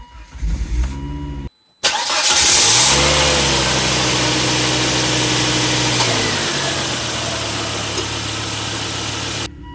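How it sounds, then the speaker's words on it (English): A 2001-2007 Volvo S40 engine, fresh from a spark plug replacement, cranks briefly and stops. After a short silence it catches and fires, revs up loudly, then settles into a steady, close idle with no talking. "We're ready to fire up the engine."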